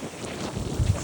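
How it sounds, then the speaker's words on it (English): Cold wind blows across a sailboat on a race passage, buffeting the microphone in low rumbling gusts that swell near the end of a short stretch. "The wind is just coming directly over the port side."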